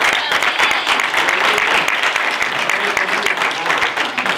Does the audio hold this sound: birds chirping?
no